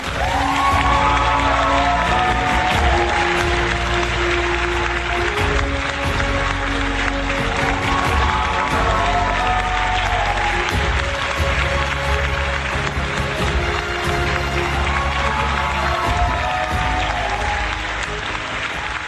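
A large audience at an awards show claps loudly and steadily for a long stretch, a dense wash of applause over music and occasional cheers.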